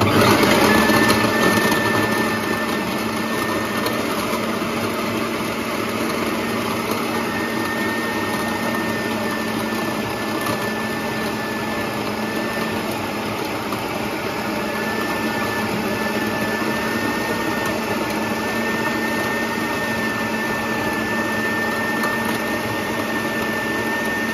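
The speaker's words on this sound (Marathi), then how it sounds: "आता तो फूड प्रोसिजरमध्ये टाकणार आणि पीठ मळतो आपण तसं मळायचं" Food processor kneading a ball of dough mixed with milk and sugar for sweet shankarpali, a steady loud motor whir with a constant tonal hum running unbroken throughout, no talking.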